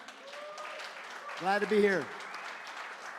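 A press-conference crowd applauds a boxer with steady, moderate clapping throughout, while someone speaks briefly over it.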